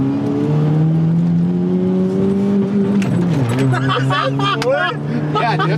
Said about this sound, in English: All right, I hate 4-cylinders, but I do kind of like that it sounds like this.